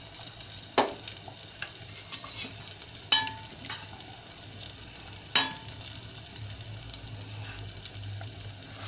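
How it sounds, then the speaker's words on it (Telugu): Cumin and mustard seeds crackle and sizzle in hot oil for a tempering, a steady soft frying hiss broken by a few sharp pops and spatters, close and moderately quiet. "అలాగే జీలకర్రను, ఆవాలు వేస్తున్నాను."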